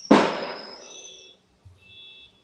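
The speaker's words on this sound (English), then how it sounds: "Fireworks, yeah." A loud firework bursts nearby with a sharp crack and a ringing, whistling tail that fades over about a second. A fainter sputter and a high whine follow.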